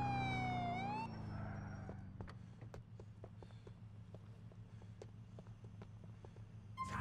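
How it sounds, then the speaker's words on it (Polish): A police car siren from the video game GTA IV wails loudly for about two seconds and then cuts off. A low steady engine rumble and scattered light clicks follow. "Jedzie tutaj nasz kochany radiowóz"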